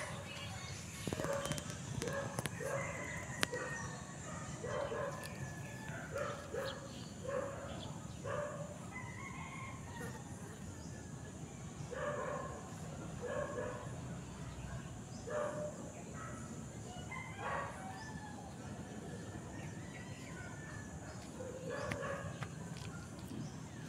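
Dogs bark and yip repeatedly in the distance through a steady outdoor hiss, their calls arriving in irregular bursts, with faint bird sounds and occasional quiet voices nearby.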